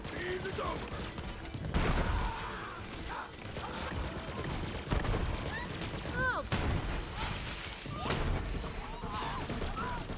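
Gunfire and impacts in the Borderlands 3 shooter from a Westergun SMG with corrosive damage: bursts of shots, crashes and metallic effects come and go over game ambience, while someone talks throughout.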